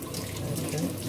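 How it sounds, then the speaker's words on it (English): Running tap water splashes steadily onto a kitchen knife being rinsed in a sink, a continuous close hiss and patter with no talk. "Wash the knife. Yeah, wash them nicely so you don't get any residues."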